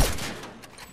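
A sniper rifle shot in the video game Fortnite cracks loudly right at the start, then fades into a short, echoing decay with faint game ambience behind it.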